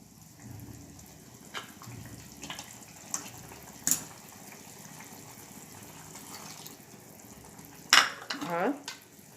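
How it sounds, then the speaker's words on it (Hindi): Konkani crab curry (saalan) comes to a boil in a pot on the stove, giving a soft, low bubbling and simmer with a few sharper clinks and stirring noises near the end. "ये देखिए सालन में उबाल आ रहा है।"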